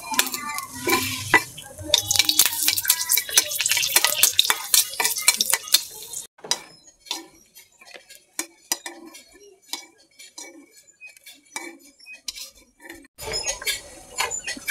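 Dried red chillies fry in oil in a pan while a spatula stirs and scrapes, an opening burst of loud sizzle giving way to sparse, sharp metallic clinks and scrapes against the pan.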